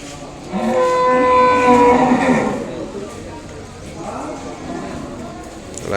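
Ongole bull calves moo, one long loud bellowing call close by, followed by quieter farmyard sounds and further low lowing.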